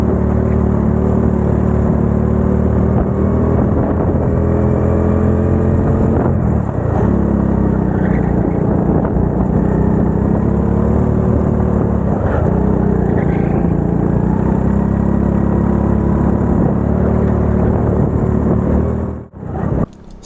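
Racing kart engines during a junior karting championship race at Castle Combe, a continuous loud high-pitched buzzing whine from up close with rising and falling pitch as the kart accelerates and brakes through corners.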